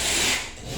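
A brief, close scraping rasp as a knife blade is raked along the edge of sheetrock, lasting under a second.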